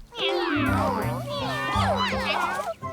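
Cartoon kittens from the animated series 44 Cats give a rapid string of high, sliding meows, close and loud, layered over steady background music.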